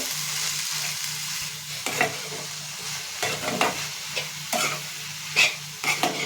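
Drumstick flowers sauté in hot oil in a pan for a home-style vegetable dish, a continuous sizzle broken by repeated scraping stirs of a spoon, close and fairly loud.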